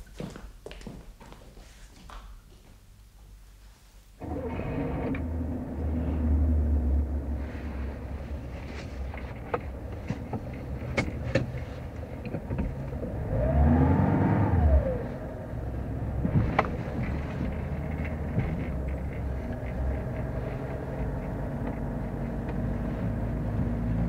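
A car engine starts abruptly, then runs and pulls away with a low rumble, a rising revving swell midway and outdoor wind noise, staged as a sound effect in a Russian radio play set in the countryside.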